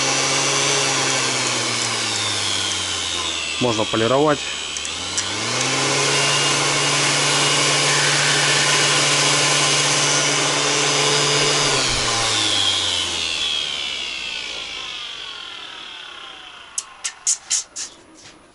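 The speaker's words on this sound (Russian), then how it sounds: "это аккумуляторная шлюф-машинка вот такая ручная" A small cordless handheld Redverg electric sander whirs steadily, its motor pitch rising and dropping as it changes speed, then winding down, with a few clicks at the end.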